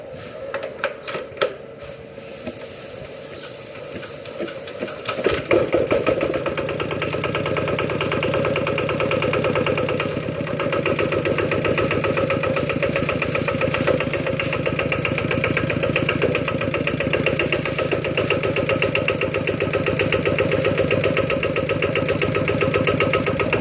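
A Kubota RT9 single-cylinder diesel engine idles with a steady, even chug for most of the stretch, after a brief rattling start, the rhythm holding fairly constant throughout.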